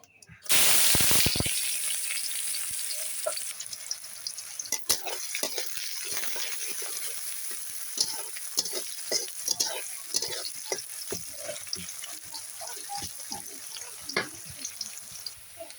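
Sliced onion dropped into hot oil in a pan for a prawn and water lily stir-fry, a loud burst of sizzling that settles into steady frying with scattered spoon clinks and stirring.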